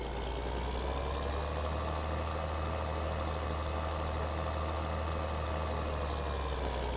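A tractor pulling a cultivating seeder in Farming Simulator 2013 drones with a steady low engine rumble, constant and unchanging for the whole stretch, with no voices.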